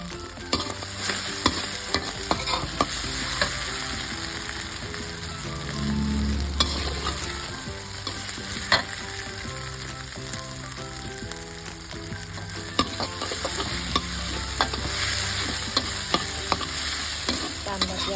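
Eggplant and sun-dried fish stir-fried in a pan, with a steady sizzle and repeated scraping and clanking of a spatula against the pan throughout, no voices.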